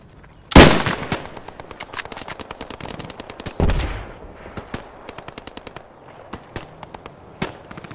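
Automatic machine-gun fire in the World War II shooter game Post Scriptum: a loud close burst opens, then rapid rattling volleys and scattered single shots continue, with a second heavy burst midway and more distant firing after.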